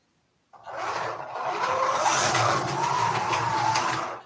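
A small TTS slot car whirs around a home track, a high buzzing motor whine that starts abruptly and holds steady, close and fairly loud, with no talking.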